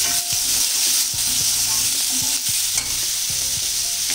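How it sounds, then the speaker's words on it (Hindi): Green peas sizzle with spices in a hot pan on a low flame, a loud continuous hiss and crackle broken by repeated scrapes and knocks of a stirring spoon. "और अब ऐड कर देंगे हम लोग मटर, और बिल्कुल स्लो फ्लेम कर देंगे इसको।"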